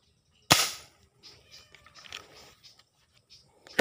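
A speargun fires underwater during spearfishing, a sharp loud crack followed by a decaying hiss and scattered faint scrapes and bubbling, with another sharp click near the end.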